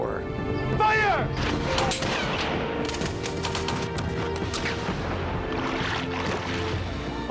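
Cannon fire in a recreated 1754 battle scene of the French and Indian War, with repeated booming blasts and crashes in a dense, loud, continuous mix, along with a shouted command.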